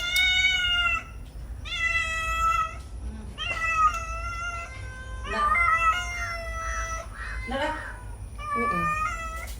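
A cat meows repeatedly up close, a string of loud, drawn-out, wavering cries with short pauses between them, in a home kitchen where fish curry is being cooked.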